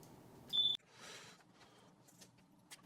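A single short, piercing electronic beep from a smoke alarm, followed by quieter rustling and faint background noise.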